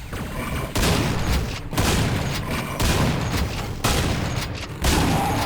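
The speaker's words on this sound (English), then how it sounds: "Accidentally sat right next to that grenade." Grenade explosions go off in the Quake video game, a rapid series of about five loud, booming blasts at roughly one-second intervals, each with a crackling tail and no talk over them.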